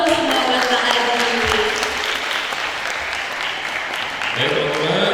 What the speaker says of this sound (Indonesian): Tepuk tangan dulu dong semua buat Pak Aji.